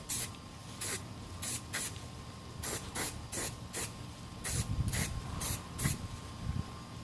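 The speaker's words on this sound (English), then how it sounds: "I'm basically just going to spray the inside" Matte white spray paint is sprayed into a candle holder in about a dozen short, close hissing bursts separated by brief pauses, with quiet handling noise between them.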